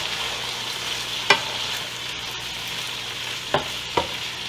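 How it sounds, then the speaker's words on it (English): Chicken and vegetable sauté with lemon and pepper being stirred in a pan after the heat is off, a steady soft sizzle with a few sharp spoon or spatula scrapes against the pan. "I'm stirring in that lemon and the pepper."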